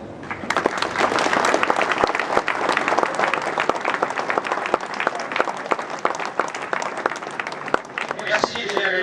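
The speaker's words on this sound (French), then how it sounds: "je vous propose que, comme la musique, vous les applaudissiez chaleureusement." An audience claps warmly for the GRLE at Fort de Nogent before a July 14 parade. The applause is dense and sustained, with sharp individual claps throughout and a voice rising briefly near the end.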